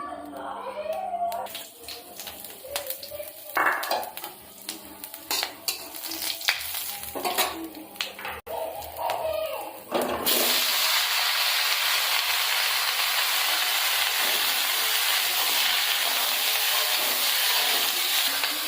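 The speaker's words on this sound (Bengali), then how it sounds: "এখানে আমি তেজপাতা, জিরে আর ফোড়ন, কাঁঠাল, গোটা লঙ্কা সব একসাথেই তেলের মধ্যে আগে দিয়ে দেবো" Bay leaves, cumin and whole chillies dropped into hot oil in a village kitchen, preceded by clinks and handling of utensils, then a sudden loud, steady close sizzle that holds to the end.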